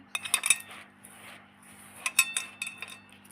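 A spoon stirs malpua batter with fennel seeds in a bowl, making bright metallic clinks and scrapes that come in two close, fairly loud bursts with a quieter stretch of mixing between them.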